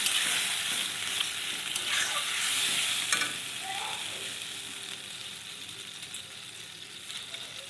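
Sour yogurt stirred into spices frying in oil for bottle gourd kofta curry, making a steady close sizzle with scraping stirring strokes that gradually softens as the mixture settles.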